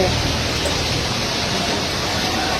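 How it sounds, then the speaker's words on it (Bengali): Steady rain pours down in a loud, unbroken hiss that fills the whole stretch, close and dense, with rainwater leaking at Delhi airport. "মানে একটু বৃষ্টি দিচ্ছে, এই বৃষ্টিতে এমন হয়ে গেছে।"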